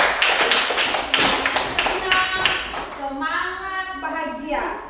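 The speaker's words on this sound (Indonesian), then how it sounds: "Tepuk tangan untuk kita semua." Children in an Indonesian classroom clap their hands in a quick burst of many small claps over the first few seconds, followed by young voices chanting together.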